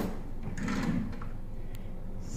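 A kitchen cutlery drawer in an apartment slides open or shut with one soft rolling scrape, close by, against a steady room hum.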